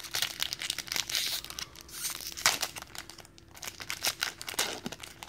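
A Pokémon card pack wrapper crinkles and tears, with a dense run of sharp plastic rustles and crackles up close and a brief lull midway, no talk.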